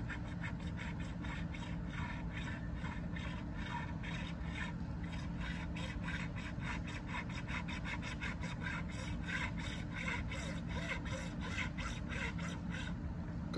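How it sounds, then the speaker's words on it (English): A hacksaw cuts through metal while an oil pump is being removed, giving steady, rapid back-and-forth rasping strokes at moderate, even loudness over a low hum. "Cutting through the hacksaw blade."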